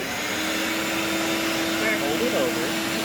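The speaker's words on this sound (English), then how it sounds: "turn the vacuum on" A vacuum runs during a honey harvest from beehives, a steady loud whining drone with a constant tone, close by, and people talk faintly beneath it.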